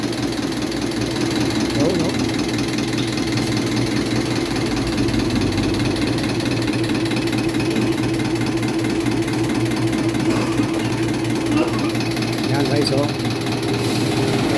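An Isuzu diesel engine runs steadily after injection pump and nozzle calibration, a loud, even clattering idle throughout, with someone talking over it.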